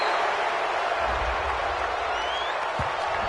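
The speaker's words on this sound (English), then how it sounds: "this crowd does not like that call" Large football stadium crowd at a Falcons vs Panthers game reacting to a penalty call, a sustained broad roar filling the space evenly without breaks, heard from a distance.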